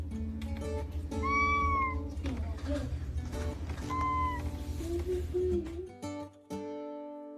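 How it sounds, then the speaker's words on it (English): A playful, chatty cat that was born all black meows several times, with rising, drawn-out calls over a low steady hum. "She'll meow, singing her thoughts to everyone who can hear her"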